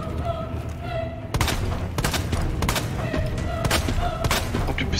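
Pistol fire during a Resident Evil 2 boss fight: a rapid string of loud, punchy shots starts after a brief pause, cracking irregularly every half second or so over rumbling game ambience and scattered tonal effects.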